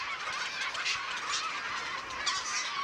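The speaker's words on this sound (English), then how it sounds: "The yellow-legged gull is a sociable species" A yellow-legged gull colony on a Ukrainian meadow keeps up a steady, dense wash of overlapping calls and honking cries, moderately distant and continuous throughout with no voices.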